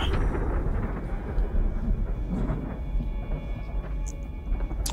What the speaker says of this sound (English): Why is there thunder when we're this far?